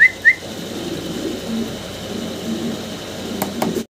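Fancy pigeons cooing softly in a loft, low murmuring coos under a steady background hum, with a brief whistle-like note at the start and a clatter near the end.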